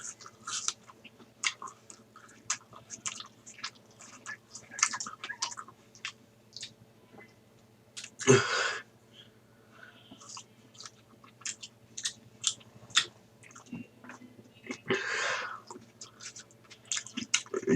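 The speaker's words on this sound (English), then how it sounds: "I am crunching on apples as I'm speaking." Apples are crunched and chewed close to the microphone, with many sharp, irregular crisp bites and a few louder crunches spread across a quiet background.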